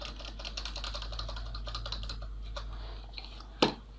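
Fast, light clicks from a computer keyboard as a name is typed in, a quiet, continuous patter of keystrokes that slows near the end, followed by one heavier key press, close and with no talk.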